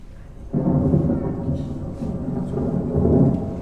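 Heavy rain pours steadily while deep thunder rumbles roll in close and loud, swelling and fading in waves with no voices over the storm.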